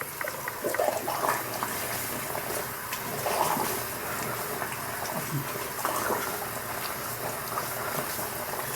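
Water runs steadily from a tap over a shaving brush and gear, a continuous splashing wash at close range that holds for the whole stretch with no talking.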